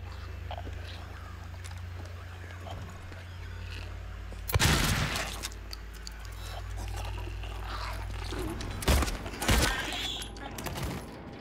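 Two sharp booming gunshots ring out in Silent Hill 2 (Remake), in a hospital, several seconds apart, over a low droning background.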